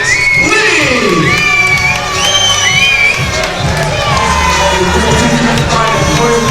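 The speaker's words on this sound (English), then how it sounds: "please make some noise for your runner-up, Slinkz, Leigh." At a kickboxing event, a large crowd cheers loudly for the runner-up, a dense, continuous roar packed with whoops, high shouts and screams that lasts through the whole stretch.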